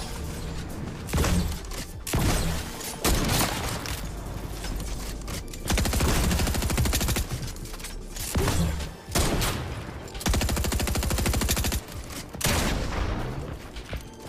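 Gunfire in the video game Fortnite cracks out in dense, loud bursts separated by short gaps, rapid shots stacking into fusillades throughout.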